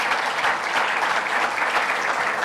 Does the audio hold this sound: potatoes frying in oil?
no